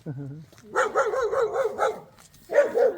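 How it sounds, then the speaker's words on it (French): Dogs bark aggressively in repeated harsh bursts, close and loud, with a short pause before another volley; a person's voice can be heard briefly at the start. "En plus les chiens sont hyper agressifs."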